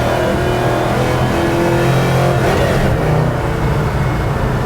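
Engine of a 1927 Ford Model T hot rod pulling under partial throttle while driving, a loud steady drone with a rising tone, close and continuous with no talk.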